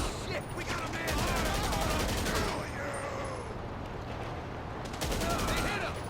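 Heavy rifle fire in GTA V comes as rapid, loud bursts of shots, with one long volley and then another after a short lull, and it dominates the soundscape.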